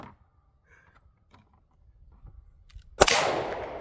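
A single sharp gunshot goes off at an outdoor shooting range near the end, loud and close, followed by a brief ringing decay after quiet handling noises.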